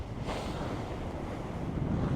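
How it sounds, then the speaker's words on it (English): Wind buffets a coastal headland by a cast iron lighthouse in Norway, a steady blustery rush with microphone rumble throughout the brief clip. "It's quite windy."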